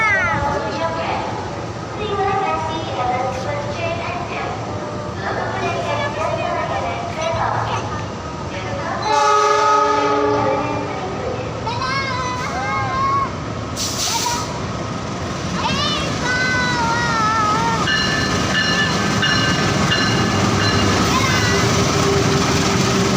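Tegal Bahari train from Pasar Senen to Tegal passing through Jatinegara station, a long rumbling rail passage with squealing wheels and a horn blast midway, under station bustle and people talking nearby.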